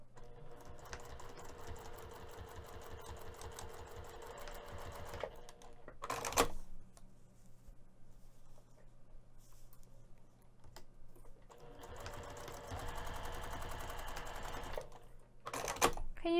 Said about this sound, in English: We're going to be sewing this edge with the dart using a 1/4 inch seam allowance